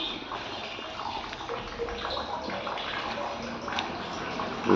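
Water gushing from a freshly joined pipe after a tap is opened, a steady broadband rush with splashing throughout, under busy background noise.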